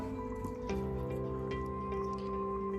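A spatula folds a tiramisu mousse mixture in a bowl, giving soft wet squishing and dripping sounds, close and fairly faint over a low background hum.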